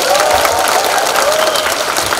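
An audience at a Democratic Party members' talk concert claps steadily in a thick, continuous wash of applause, loud and even throughout, with some crowd noise mixed in.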